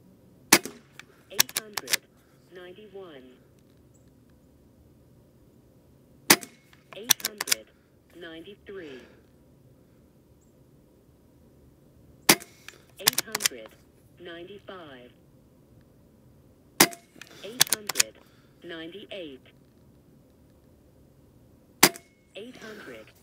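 A Gamo Arrow Classic air rifle fires five pellet shots on a 20-yard range; each is a sharp, loud crack spaced several seconds apart, some followed by clicks and quieter ringing sounds, with a quiet background.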